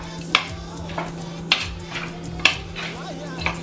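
A utensil clinks against a pot while black pepper and salt are stirred into goat meat for curry, four distinct taps at a steady pace over a low hum.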